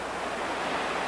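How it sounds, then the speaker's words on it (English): River rapids rush in a steady, broad roar of churning water, loud and close, with no pauses and no voices. "we're scouting out a rapids ahead of us."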